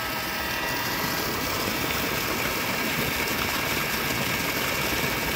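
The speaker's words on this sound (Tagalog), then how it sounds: "Tingnan, lalong lumakas yung makina niya." A budget solar-powered water pump driven by two 505-watt solar panels runs steadily and loudly, its engine a dense, continuous whir with a watery hiss layered on top and no talk over it.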